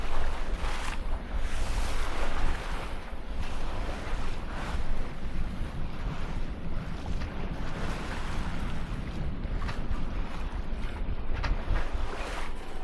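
Wind and rain noise aboard a sailing boat motoring under engine into a 15-knot headwind off Scotland, a steady broadband rush with low rumble and splashy gusts continuing throughout, no talking.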